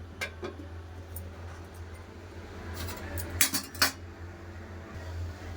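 A metal lid is set onto a cooking pot of cauliflower and water, giving a few sharp clinks and rattles in a quick cluster amid quieter clatter of utensils, close and fairly faint.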